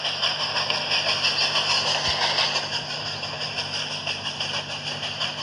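Train engine speeding up in a video game, a steady hissing, droning mechanical rumble that holds close and even throughout with no talking.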